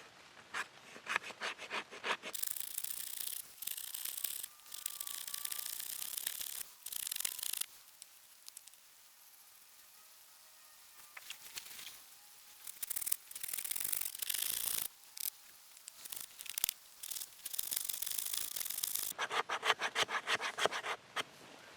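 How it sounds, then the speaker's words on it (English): Repeated rough scraping strokes of a knife's 90-degree spine shaving curls off a wooden block, close and fairly loud, in bursts separated by brief pauses. "Let's make some shavings off the Chubby Block."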